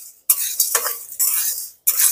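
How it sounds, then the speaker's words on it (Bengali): Cumin, coriander and fennel seeds stirred and dry-fried in a pan over low heat, giving bursts of scraping, rustling stir strokes with short pauses between them, close and moderately loud with no talking. "এবারে মশলাগুলোকে আরো 2-3 মিনিট মতন হালকা আঁচে ভেজে নেব।"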